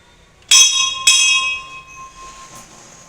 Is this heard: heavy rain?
no